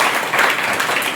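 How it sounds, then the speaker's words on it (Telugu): Applause from a church congregation fills the space, a dense, loud, steady burst of many hands clapping with no talk over it. "చప్పట్లు కొట్టే సరిపోతుంది"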